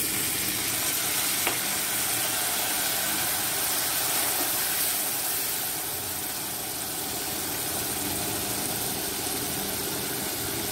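Water hits hot frying spices (turmeric and red chili powder) in a pan for rajma, giving a steady broadband sizzle that holds loud and close, then eases slightly, with no talking.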